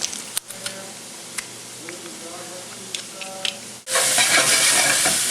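Garlic fries in a stir-fry pan. A bright, loud, steady sizzle bursts in partway through, after a stretch of quieter kitchen clatter with talking.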